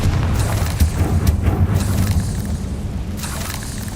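A Confringo explosive spell in Hogwarts Legacy goes off with a loud, heavy boom, and a deep rumbling roar with crackling bursts carries on for a few seconds.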